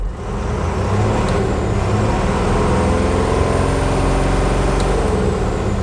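Tata BS4 truck diesel engine with a warning light on and an SCR aftertreatment NOx sensor wiring fault runs loud and close in a steady, dense drone, with no clear rev rise and no talking.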